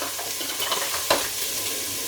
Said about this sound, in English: You can hear the sizzle straight away.